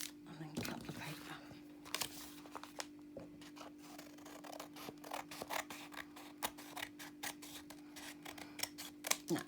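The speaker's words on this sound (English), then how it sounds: "And then cut the paper." Scissors snip through paper while making a junk journal tag note pad, a series of short crisp cuts in irregular rhythm close by, with a quiet voice murmuring faintly over a steady background hum.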